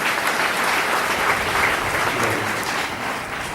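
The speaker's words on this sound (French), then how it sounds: "je vous demande encore d'applaudir très fort" Loud, dense applause fills a church service, a sustained roar of many hands clapping together that stays strong and then eases slightly at the end.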